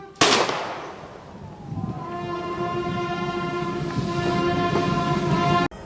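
A single rifle salvo fired by an honor guard at a vice president's state funeral gives one sharp, loud crack that rings into a long, fading reverberation, and steady tonal hum continues underneath.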